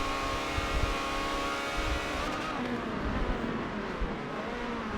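Ferrari 360 Challenge race cars head into a hairpin at Hockenheim, their engines a steady, fairly faint racing drone with no talking.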